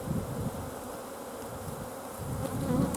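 Honey bees buzzing around a hive frame during hive work, a dense, continuous close drone of many wings with slight swells in loudness and no talking.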